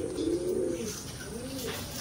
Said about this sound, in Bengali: এই একটা ম্যাট্রাজ কবুতর